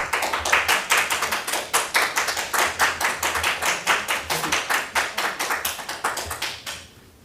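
Audience clapping at an APS board meeting in October 2025: a steady, rhythmic run of loud, distinct hand claps, almost metronomic, lasting about seven seconds before stopping abruptly.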